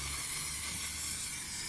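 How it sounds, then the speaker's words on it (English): An aerosol can sprays rust converter onto the underside of an MK1 Volkswagen Golf in a steady, close, continuous hiss that runs the whole time with no pauses or talk. "Now I'm gonna go through and just spray it with rust converter"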